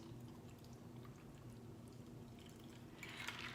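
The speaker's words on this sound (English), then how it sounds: "Pour it out into our cocktail glass." A pink lemonade cocktail poured from a shaker into a cocktail glass, a faint soft liquid trickle over a low background hum, brightening into a short splash near the end.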